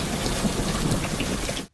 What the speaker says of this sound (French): il rajoute juste des bruits de pluie